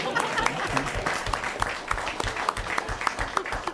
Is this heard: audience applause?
yes